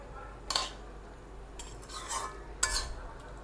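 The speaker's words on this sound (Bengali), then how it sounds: "দেখো আমি একটু নাড়াচাড়া করে নিচ্ছি" Bottle gourd greens curry is stirred in a pan, three distinct scraping, clinking strokes of a spoon against metal over a quiet background, no talk.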